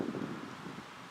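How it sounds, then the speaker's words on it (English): Steady wind rushes and buffets against the microphone on a disc golf course in Estero, Florida, a constant low roaring noise with no voices. "it's a windy day, so it's quite tricky out here"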